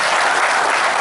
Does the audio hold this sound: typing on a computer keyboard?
no